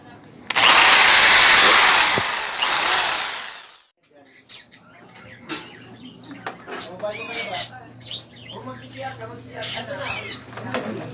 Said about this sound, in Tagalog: So ang gagawin ko is bubutasan ko na lang dito ng drill